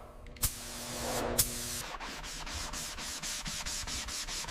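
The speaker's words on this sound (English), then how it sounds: "Sanding again. We need absolute perfection for the paint." Rhythmic sanding strokes rasp back and forth on a Cadillac Celestiq car body panel, fairly close, after a couple of sharp knocks at the start.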